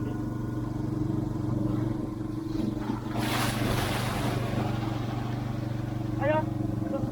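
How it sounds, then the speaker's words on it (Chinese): Sea waves rolling and breaking on a rocky shore as the tide rises, a steady wash of surf with one larger crash near the middle, while a person talks over it. "涨潮的迹象，每一个浪都能打起来，都是涨潮的迹象"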